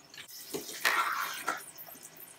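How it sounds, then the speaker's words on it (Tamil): Tamarind water, about a cup, is poured into a pot of rice in a home kitchen, a brief splashing, trickling pour that swells then tapers off, fairly close and alone. "ஒரு 1 கப் அளவுக்கு தண்ணி, புளி தண்ணி நான் இதில் ஊற்றுறேன்."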